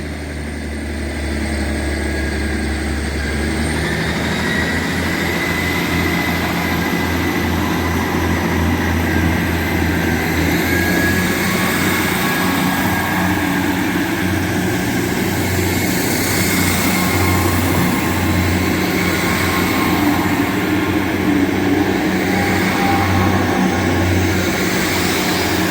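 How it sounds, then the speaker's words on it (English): A Class 158 diesel multiple unit pulls away from North Queensferry station on a Glenrothes-to-Edinburgh Waverley service, its engine note building into a steady, loud rumble with wheel and rail noise sustained throughout, no voices. "Now about to depart is the return of the 11158 set we saw earlier on today."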